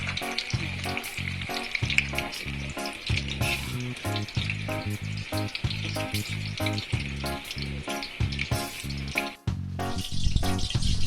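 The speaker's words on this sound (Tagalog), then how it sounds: "Prito ko muna yung talong guys." Eggplant sizzles and crackles in hot oil, a dense continuous frying sound close by, with occasional stirring.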